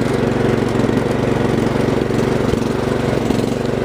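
A Craftsman R1000 riding lawn mower engine runs steadily and loudly up close, a continuous buzzing drone with an even rhythm and no talking.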